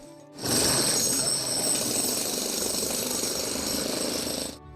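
Paving work around a brick dormitory building, with a steady, loud mechanical rattle like a jackhammer or power tool running continuously for several seconds, no voices.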